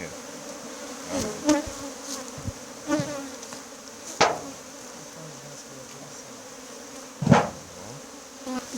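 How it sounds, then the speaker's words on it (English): Watuka bees buzz steadily around an open hive at a Guyana beekeeping site, a continuous close swarm drone with sharp knocks and handling thumps over it, and no talk. "the chairman is going away with a lot of the Watuka bees on his hat"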